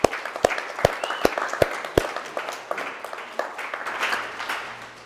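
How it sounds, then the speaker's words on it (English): An office audience applauds the sales team during a company quarterly update meeting: a few sharp, separate claps at first, then a denser, steady patter of clapping from a small group. "give them a round of applause"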